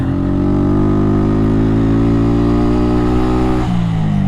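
A vehicle engine in low gear labours up a steep off-road slope, its loud steady drone holding under load and dropping in pitch near the end, with no voices over it.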